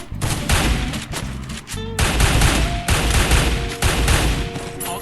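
Rapid gunfire bursts in Free Fire during a 4v4 match, loud dense volleys and booming shots stacking over one another with brief gaps, continuous and close throughout.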